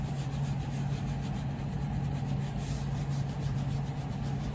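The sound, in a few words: rubbing antique tan coat onto tooled leather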